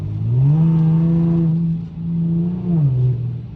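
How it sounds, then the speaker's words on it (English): Infiniti G37 driving in the rain and passing other cars, a close steady engine drone that swells, dips and rises again as it accelerates, with no talk over it. "Let me go ahead and pass up these fucking cars."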